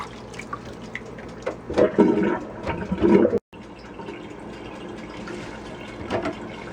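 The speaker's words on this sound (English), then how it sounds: "we're going to rinse all of the baking soda off of the kale" Tap water running over kale to rinse off baking soda in a home kitchen, a steady close splashing stream that surges louder midway, cuts out briefly, then resumes more softly.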